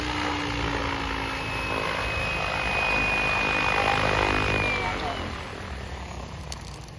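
An XLPower Specter V2 RC helicopter with an Egodrift 4525HS motor and YGE 135HVT controller comes in to land at dusk: a loud, steady motor whine and rotor roar that eases and winds down toward the end.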